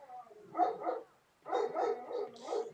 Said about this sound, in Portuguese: os cachorros tão doidos aqui